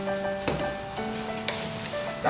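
Water spinach stir-fried in a pan with sauce and a splash of water, a steady close sizzle broken by a few sharp scrapes and clatters of stirring, with no talking.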